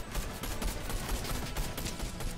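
Gunfire in Fortnite aimed at the player, a steady, rapid stream of loud shots rattling continuously throughout with no pause.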